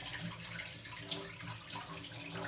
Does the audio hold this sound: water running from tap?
yes